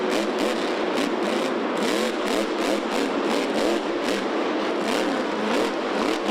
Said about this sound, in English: It's Dennis Anderson on the throttle